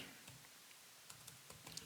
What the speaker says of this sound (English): So I'm typing in the password.